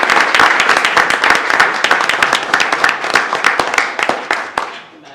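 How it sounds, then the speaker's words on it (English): Audience applause fills a council meeting chamber, a dense crowd of close clapping that holds steady for several seconds and then thins and fades out. "Give them a round of applause"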